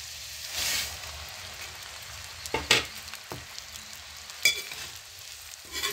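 Flattened rice (chura) stirred in a pan with green chili and garlic, a faint sizzle with a few sharp scraping clatters of the spoon at intervals.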